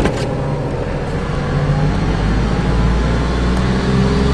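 Diesel caravan engine pulling in fifth gear, a loud continuous low rumble with road noise that holds steady throughout, heard from inside the cab without talk.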